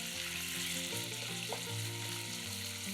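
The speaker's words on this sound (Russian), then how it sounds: "Нарезанное мясо выкладываем на горячую сковороду с растительным маслом" Sliced beef sizzles steadily in vegetable oil in a hot pan over high heat, a continuous close frying hiss with a low tonal hum underneath and no talking.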